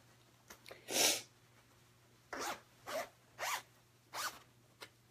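A sewn fabric zippered pouch is unzipped in a series of short, brisk rasping zips. Six or so separate pulls follow each other closely and sound near and clear, with no talking.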